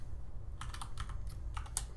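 Keys on a TI-Nspire calculator keypad are pressed in a quick run of distinct clicks, close and fairly quiet over a low background hum.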